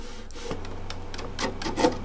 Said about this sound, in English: sandpaper on a 12 inch radius block